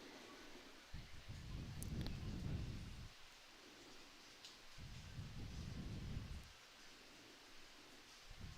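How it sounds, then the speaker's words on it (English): Heavy nighttime rain pours outside the Sheraton Waikiki hotel in Honolulu, a faint, steady, distant hiss with slow swelling low rumbles and no voices. "Could still hear the rain busting down in the background there."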